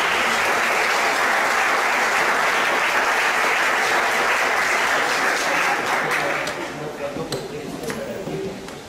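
Sustained audience applause at a poetry recital, loud and dense for about six seconds before thinning out and fading toward the end.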